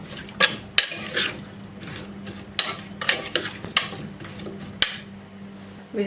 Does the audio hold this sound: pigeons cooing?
no